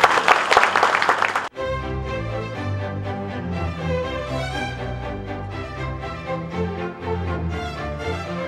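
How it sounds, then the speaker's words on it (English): A crowd claps loudly for Mr. Basdio at a royal visit, a dense burst lasting about a second and a half that cuts off abruptly as steady music takes over. "I want you all to give him a round of applause today"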